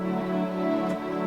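Sustained synth pads layered with pianos, a steady warm chord held throughout with a slight shift near the end, moderately loud and unaccompanied.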